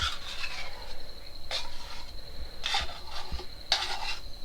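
A knife scraping condensed milk out of a can, three or four distinct rasping metal strokes separated by short pauses, close and moderately quiet.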